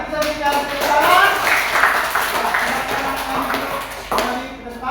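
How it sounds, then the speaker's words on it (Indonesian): Students in a classroom clap for a discussion group, a loose burst of hand claps that fades, with a sharp tap near the end. "Mari kita berikan tepuk tangan."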